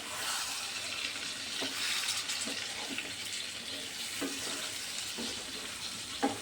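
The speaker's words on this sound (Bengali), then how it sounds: "ভিনিগার দিয়ে একটু মিশিয়ে নিচ্ছি।" Vinegar being stirred into pickle in a pan over the gas, a soft, continuous bubbling sizzle with faint, irregular scraping of the spoon, fairly quiet and steady throughout.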